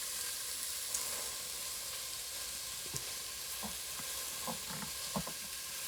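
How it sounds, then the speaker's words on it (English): Onions fry in a pan with a soft, steady sizzle, faint and constant, broken by a few light clicks and scrapes of stirring. "we're gonna cook this for 5 minutes until the onions are, quote, soft and golden"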